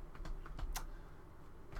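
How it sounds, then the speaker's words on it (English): Playing cards are shuffled during a Magic: The Gathering match, making quick, faint riffling clicks in an irregular patter, close and quiet, with no talking. "People comment about my weird shuffling."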